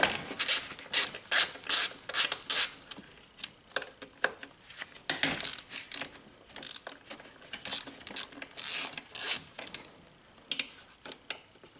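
Ratchet wrench clicking in repeated bursts while loosening the 10 mm bolts on a car throttle body, crisp and close, with short pauses between runs of rapid ticks and no talk.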